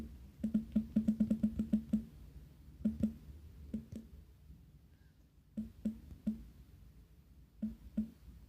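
Rapid bursts of key clicks from a computer keyboard, a dense flurry at first and then scattered short runs with pauses between, close and fairly quiet, with no talking.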